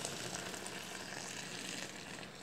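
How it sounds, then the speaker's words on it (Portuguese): Boiling-hot water, about two litres, pours steadily into a pot previously used for melting soap while making homemade liquid soap, a continuous close rushing splash with a bright hiss and no speech. "vou acrescentar mais 2 litros de água quente, fervendo"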